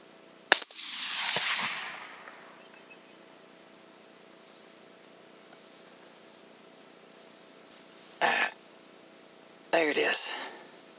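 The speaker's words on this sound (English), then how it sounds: "Wounded him on the first shot, killed him on the second." Gunshots during a hog hunt in North Central Texas: a sharp, close crack followed by a hissing rush, then quiet before two brief noisy bursts later on.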